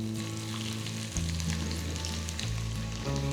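Steady loud sizzling of shallots frying in a hot pan for thari kanji, with a brief shift as the food is stirred or added midway.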